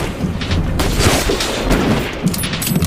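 Gunfire in a sniper film battle among rocks, a loud dense burst of repeated shots and booms with rumbling impacts, close and crowded together.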